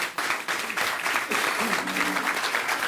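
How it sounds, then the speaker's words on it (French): An audience at a political party coordination gathering applauds, a sustained burst of clapping that starts abruptly and carries on with some voices mixed in. "je vous demande de bien vouloir les applaudir"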